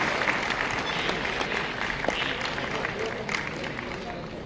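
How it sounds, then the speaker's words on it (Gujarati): A crowd at a Bhavnagar municipal ceremony for development works, attended by the Chief Minister, claps in sustained, dense applause heard from within the audience, steady for the whole stretch, with voices mixed in. "આપણે સૌ તાળીઓના નાદથી આ ક્ષણને વધાવતા રહીએ"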